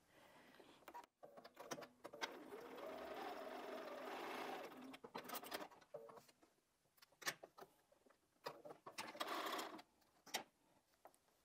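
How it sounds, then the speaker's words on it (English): A sewing machine stitching small quilt patches runs in a steady whirring burst for several seconds, then stops and starts in short runs with clicks and handling noises. "I'm actually going to sew that one from the other side."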